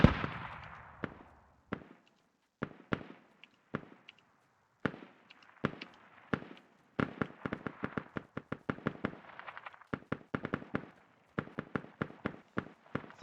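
Mortar fire in the video game Squad booms out as a series of sharp, distant reports, sparse at first and then in quicker irregular clusters, each crack short with a brief echoing tail over near silence.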